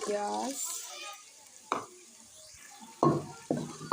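Oil and onion in an open cooking pot on the stove, with stirring and sizzling: soft frying hiss with a few sharp clanks of a spoon against the pan, and a voice speaking at the start.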